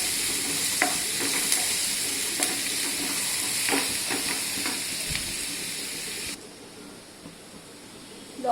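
Chopped onions sizzle and hiss in hot oil in a pan for a lasagna, with scraping stirs and small crackles, then the frying quiets to a softer hiss for the last couple of seconds.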